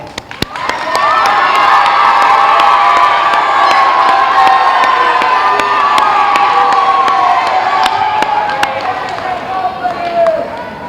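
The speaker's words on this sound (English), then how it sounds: "a huge round of applause for all participants and those who reached today's final" A school auditorium audience at a middle-school geography bee final claps and cheers loudly for the competitors, a dense, sustained roar of applause and shouting that runs for about ten seconds before tapering slightly.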